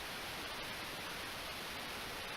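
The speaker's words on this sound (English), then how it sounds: "White noise?" Steady hiss of white noise static in the visual novel Steins;Gate 0, a faint, unbroken wash of noise lasting the whole stretch.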